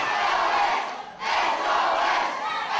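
A wrestling crowd roars with sustained cheering and shouts at an Irish Whip Wrestling event, loud and continuous, dipping briefly at the midpoint before surging back.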